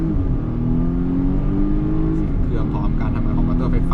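A Volvo S60 accelerates hard during an acceleration test, its engine roaring loud and close with a steady rising drone that continues for the whole stretch.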